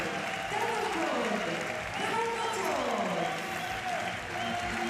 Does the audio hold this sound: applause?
yes